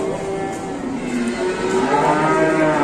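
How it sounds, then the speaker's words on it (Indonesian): A cow in a pen gives one long, loud, close moo that stays low and drawn out and slowly swells, with no one talking. "Sapi betina."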